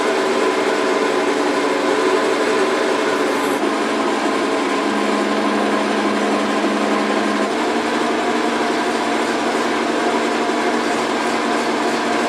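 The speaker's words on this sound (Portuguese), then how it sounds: "Tem um pedaço de latão e você pode tornear o pináculo no formato desejado." Lathe turning a brass finial for a knife sheath, a loud steady mechanical whir and rumble throughout, with a shift in pitch partway as the cut changes.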